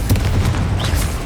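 A Confringo fire spell blasts in the Hogwarts Legacy video game, a loud, deep burst over a low rumbling bed lasting about a second, with no talking.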